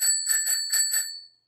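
A SODPE bicycle bell rings five quick, bright metallic dings in close succession, loud and clear, with a short ringing decay at the end and no other sound.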